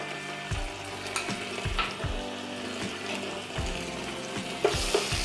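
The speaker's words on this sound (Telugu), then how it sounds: "దీన్ని పచ్చి వాసన పోయే వరకు వేపుకోవాలండి." Ginger garlic paste fries in hot oil in a pan, a close, continuous crackling sizzle broken by stirring scrapes at intervals, with no one speaking.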